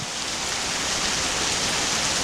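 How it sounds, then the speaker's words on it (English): Medium rain falls steadily outdoors in cool, wet weather, an even, close hiss of drops without pause throughout. "I would say right now, it's a medium rain."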